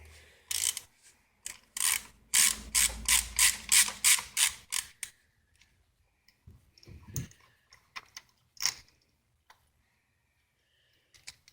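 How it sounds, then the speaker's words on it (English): A ratchet with a 5/8 spark plug socket on a 6-inch extension turns a spark plug on a Lexus/Toyota V6, giving a fast run of sharp close clicks, then scattered slower clicks and a few clunks. "Use your ratchet."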